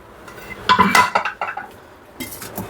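A pressure cooker is set down on a kitchen stove, giving a cluster of loud metallic clanks and clinks over about a second, then a softer rattle, with no voices.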